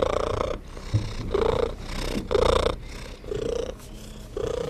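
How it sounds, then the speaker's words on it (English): A cat gives a solicitation purr, loud and insistent up close, in rhythmic pulses with a higher whiny tone woven into each breath. "The solicitation purr."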